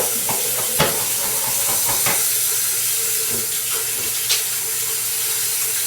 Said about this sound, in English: But first I'm going to wash up real good.